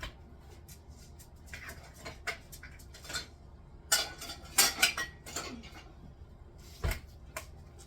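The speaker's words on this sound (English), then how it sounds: "Dirty dishes go in the dishwasher." Dirty dishes and cutlery loaded into a kitchen dishwasher: a run of irregular clinks, clatters and rack rattles, close and moderately loud, with quieter gaps between.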